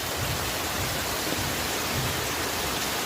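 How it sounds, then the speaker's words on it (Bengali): Heavy rain pours down steadily at night, a dense, unbroken wash of noise that stays loud and even throughout, with no voices present. "এই হলো অবস্থা বৃষ্টির"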